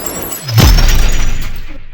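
Glass breaking as a sound effect, with a sharp falling impact followed by a loud, bright crash and a long tail of scattering, tinkling shards that fades slowly.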